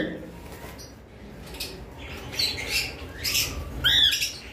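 Cockatiels squawk in short, scattered bursts, growing louder toward the end, with a sharp shrill call near the close over a murky background.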